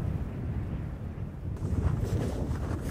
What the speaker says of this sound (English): The wind whistled across the surface.